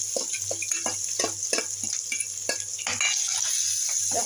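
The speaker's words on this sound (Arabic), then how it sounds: "حتة سمنة كده ننزل بيها بالبصلة بسم الله." Chopped onion sizzling in ghee in a pan on a gas stove for Egyptian minced-meat goulash, a steady close frying hiss broken by irregular pops and crackles, with no talking.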